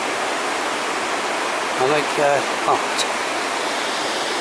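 Water pours steadily over a weir on the River Taff near Blackfriars Bridge in Cardiff, a loud, constant broadband rush with a few brief voices heard faintly beneath it.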